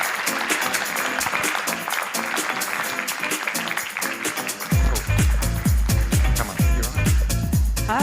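Audience applause welcoming speaker Christine Ewin at a talk event, steady clapping from a crowd that swells with louder rhythmic claps in the second half.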